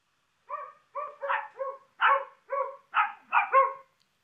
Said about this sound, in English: these are two dogs that are barking at the same time